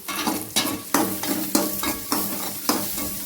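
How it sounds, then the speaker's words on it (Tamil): Sliced big onions and chilies sautéing in hot oil for a brandy chutney, a steady sizzle broken by about six sharp scraping stirs at a regular pace, close and fairly loud with no voices. "அடுத்தது வெங்காய மிளகா வணக்கிக்கலாம்"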